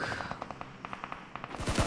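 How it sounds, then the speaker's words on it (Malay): SCAR rifle gunfire in PUBG Mobile during a competitive esports match: a steady run of sharp, evenly spaced shots, then a brief pause and a louder, denser final burst. "satu tembakan berjauh dilepaskan dengan satu scar Ella di tangan si Nauki"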